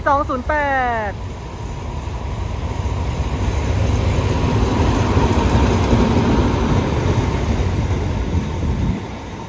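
A Thai railway diesel locomotive running light rumbles and drones as it rolls into Pha Sadet station in mountain country, its engine noise steady and close, with a brief squeal at the start.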